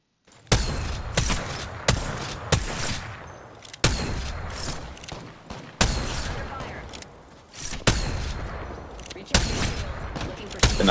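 Gunfire in the battle royale game Apex Legends cracks in loud, separate bursts and single shots with short gaps between, spread across the stretch, with faint speech underneath.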